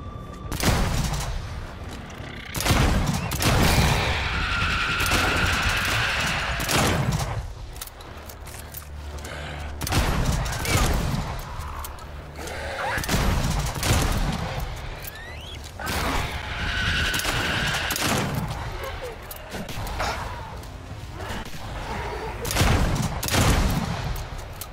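Shotgun blasts from the zombie game Dead Island 2 boom at intervals of a few seconds, each loud burst trailing into game noise and mechanical clatter, with a voice talking in between.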